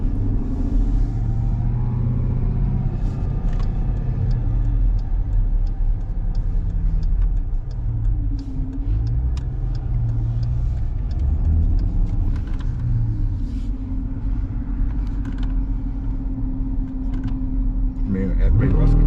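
A steady, loud engine rumble from an SRT Jeep fills the whole stretch as it pulls away from a dead stop, with people talking over it inside the cabin.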